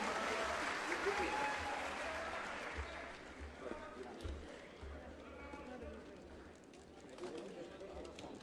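An audience applauds at a Sripada Rao birth anniversary celebration, clapping loudly at first and then thinning and fading, with voices heard over it and a few sharp thumps near the end.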